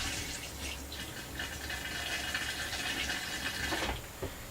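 Antifreeze poured into an empty RV holding tank gives a steady, faint gurgling rush of liquid that continues for several seconds before tapering off with a couple of small knocks.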